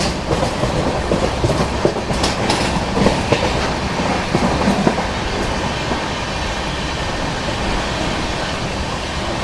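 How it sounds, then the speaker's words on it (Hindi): The Mumbai–Indore Duronto Express runs at speed, heard from inside a coach as a loud, continuous rumble with rhythmic clickety-clack of wheels on rail joints. "ट्रेन ने अभी अच्छी स्पीड पकड़ ली है।"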